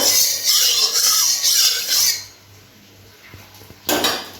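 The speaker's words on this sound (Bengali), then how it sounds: "তেলটা গরম হয়ে গেছে, তেলটা একটু ভালো করে নাড়িয়ে দেবো।" Hot mustard oil stirred in a pan for frying soybean chunks and potato, a bright crackling sizzle with scraping of a utensil that stops midway, followed by a few light clinks and a final burst of scraping.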